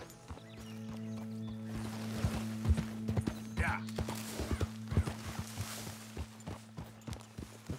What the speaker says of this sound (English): There's no road, there's a bunch of horses blocking it.